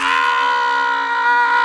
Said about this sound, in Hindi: एक ज़ोरदार चीख सुनाई दी।